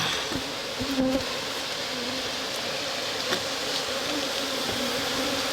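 Honeybees hum steadily around an open wooden hive in a pine forest, a continuous close insect drone with a few brief brighter buzzes passing near.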